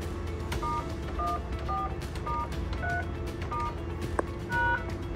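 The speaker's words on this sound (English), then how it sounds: "Again, single tone of confirmation." Talkaphone ETP-500 intercom keypad beeps out a steady series of short paired touch-tones while it is programmed, with a steady hum and background noise underneath.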